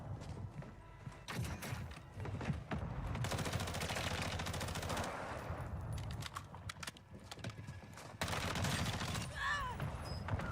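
Rapid bursts of gunfire from a Call of Duty Warzone match crackle in clusters over a busy game backdrop, loud volleys broken by short pauses, with scattered clicks and rattles between them.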